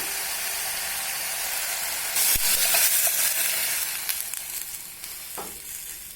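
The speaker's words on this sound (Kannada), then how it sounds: "ಅದಕ್ಕೆ ತೊಳ್ಳಿ ಇಟ್ಕೊಂಡಿರೋ ಬೇಳೆನೂ ಸೇರಿಸ್ಕೊಂಡ್ಬಿಡೋಣ" Soaked lentils for dal khichdi tipped into a hot frying pan, setting off a sudden loud sizzle and hiss that rises sharply, then settles into a steady frying crackle with a faint stir or clink.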